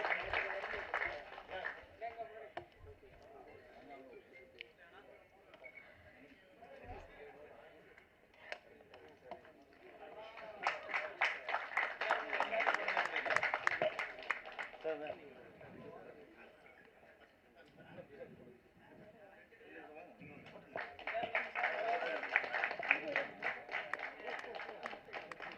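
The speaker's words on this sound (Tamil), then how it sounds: "ஒரு பெரிய கைத்தட்டல் கொடுத்து சாரை வரவேற்கலாம்." Audience applause greets a guest at a Tamil movie audio and trailer launch event, with two distinct bursts of clapping from a crowd of moderate distance, separated by quieter stretches of talk and hall noise.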